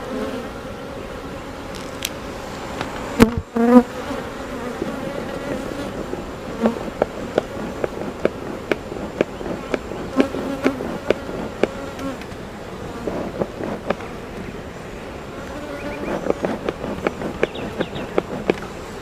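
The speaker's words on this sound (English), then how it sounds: "these bees are doing their thing. They're packing away honey." A dense swarm of honeybees hums loudly around an open hive during an early May inspection, with a constant buzzing drone and sharp clicks and knocks of hive handling scattered throughout.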